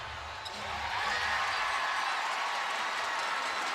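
Basketball arena crowd noise during a WNBA playoff elimination game between the Sky and the Aces, a quiet murmur that swells after half a second into a sustained, even roar of cheering voices.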